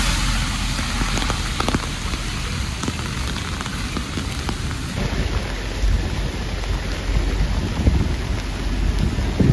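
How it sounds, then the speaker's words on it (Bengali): Heavy rain pours down on a New York street, a dense, continuous roar of drops on pavement, loud and close throughout. "অনেক জোরে বৃষ্টি হচ্ছে, অনেক জোরে।"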